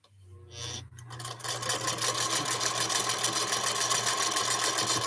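A 1966 vintage sewing machine fitted with an aftermarket motor and reverse stitches pieced quilt blocks, starting with a short whir before settling into a loud, steady, rapid mechanical chatter that runs to the end.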